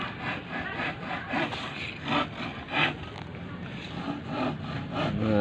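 A hand saw cuts through wood in steady back-and-forth strokes, a rhythmic rasping that rises and falls with each pull and push, close by with no talk over it.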